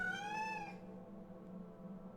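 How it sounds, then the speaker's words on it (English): In the video game Thief: Deadly Shadows, a cat gives a single clear, drawn-out meow, close by and rising then falling, before fading into a low steady hum of background ambience. "that cat sure does like my feet"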